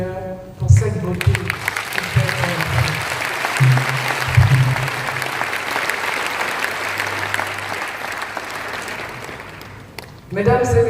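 Audience at an international seminar of Christian businessmen, businesswomen and decision-makers applauding and acclaiming the Lord, a sustained wave of clapping and cheering lasting about ten seconds, with a brief voice at the start and end.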